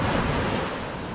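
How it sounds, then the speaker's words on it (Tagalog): Big ocean waves surging at sea, heard from a small fishing boat; a loud, continuous roar of surf mixed with wind buffeting the microphone, no talking. "Sobrang talaga lalaki ng alon mga kalibre"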